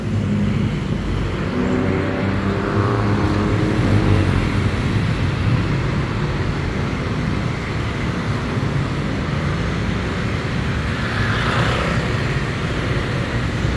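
Bangkok street traffic of cars, trucks and motorbikes rumbles steadily and loudly, a dense continuous roar of engines and tires with passing vehicles swelling now and then, no voices.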